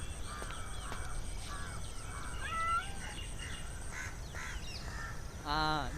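A cat meows in a short drama scene, with two brief, fairly quiet calls: one near the middle and a fuller one near the end. Faint bird calls and soft outdoor background hiss surround them.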